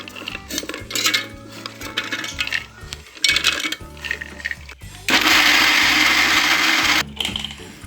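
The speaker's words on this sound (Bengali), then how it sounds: "এখন আমি এটা ব্লেন্ডার করব" A kitchen blender grinds green chillies and garlic for corn pakora, starting with short uneven bursts and clattering, then settling into one loud continuous whirring run of about two seconds before cutting off.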